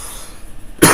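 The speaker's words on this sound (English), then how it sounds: "While I try and get rid of this cough by drinking some more." A single sharp cough bursts out close to the microphone at the end, after a quiet moment with faint background noise.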